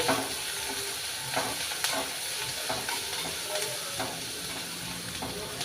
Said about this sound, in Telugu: ఈ ఉల్లిపాయలు అనేవి బ్రౌన్ కలర్ వచ్చినంత వరకు వేయించుకోవాలి